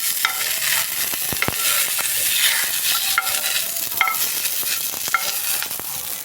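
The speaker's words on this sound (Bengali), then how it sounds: "এবারে একটু সজনে ডাঁটাগুলো একটু নেড়ে নেব।" Drumstick pieces (sajne data) fry in oil in a kadai for shukto as a spatula stirs them, a steady close sizzle broken by sharp metallic taps and scrapes.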